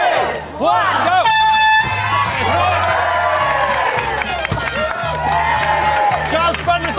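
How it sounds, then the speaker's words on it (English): A single loud air horn blast sounds for about half a second to start a timed football penalty challenge on a TV show, with a crowd cheering and people talking over it throughout. "your time starts when I honk this horn"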